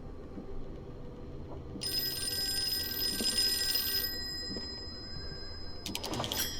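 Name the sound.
old-fashioned telephone ringing in video game Call of Cthulhu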